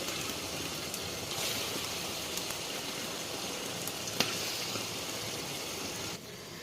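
Chana dal fritters fry in hot oil, a continuous soft hiss and fine crackle like light rain that runs steadily and then drops slightly near the end.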